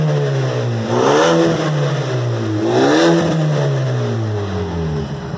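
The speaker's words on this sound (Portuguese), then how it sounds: "Nossa, que roncão legal, cara. Acelera aí." A 2016 Ford Fusion Titanium turbo fitted with an exhaust diffuser revs twice from idle, each throttle blip rising and falling in a loud, close engine roar with no talking.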